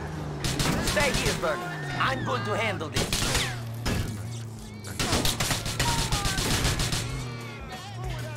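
Rapid bursts of gunfire ring out in Grand Theft Auto IV, sharp cracks repeating in clusters over a low droning engine hum, with game character voices talking between the shots.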